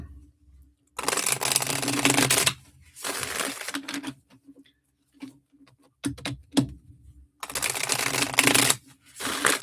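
Tarot cards are shuffled during a live reading, in several bursts of crisp riffling and card slaps separated by short pauses.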